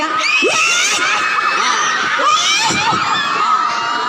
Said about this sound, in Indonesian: Coba teriak.